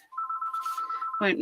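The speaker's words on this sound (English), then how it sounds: "That's my phone." A mobile phone rings with a quick electronic trilling tone lasting about a second, close and clear, before a person starts talking over it.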